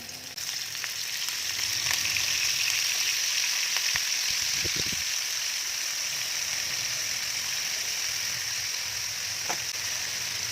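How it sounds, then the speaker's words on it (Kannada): Paneer cubes fry in hot oil in a pan for kadai paneer, making a loud, steady sizzling hiss with occasional pops and a brief clatter of stirring near the middle, with no talking. "ಕ್ಯೂಬ್ಸ್ ಕಟ್ ಮಾಡ್ಕೊಂಡಿದ್ನಲ್ಲ ಪನ್ನೀರು, ಇದನ್ನು ನಾನು ಫ್ರೈ ಮಾಡ್ಕೊತೀನಿ"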